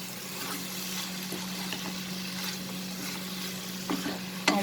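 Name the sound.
sautéing bitter gourd and shrimp with spices in a pan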